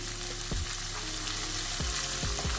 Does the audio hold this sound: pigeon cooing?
no